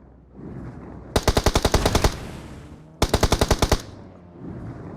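Two rapid bursts of automatic gunfire in PUBG Mobile, about a dozen shots each, loud and close, separated by a short pause over a low background rumble.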